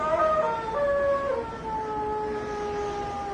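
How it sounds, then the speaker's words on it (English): A long, mournful hound howl used as a radio drama sound effect, several wavering tones sliding downward and then holding steady, heard alone with no talking. "What was that? The Hound."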